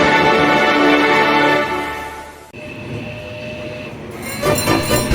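The Emerson Zooline Railroad train at the St. Louis Zoo in Forest Park rumbles past with loud, continuous rail and wheel noise, with a sharp shift midway and a burst of bright squeal or horn near the end.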